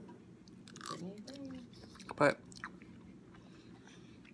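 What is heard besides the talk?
chewing food during mukbang eating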